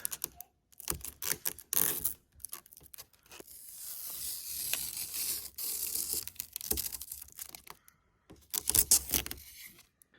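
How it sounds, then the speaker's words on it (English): Plastic wrap is torn and peeled off a new 24-inch Onn monitor in quick, crackly bursts of rustling and ripping, close and fairly quiet, with short pauses between pulls. "We're gonna go ahead and rip off all the plastic now"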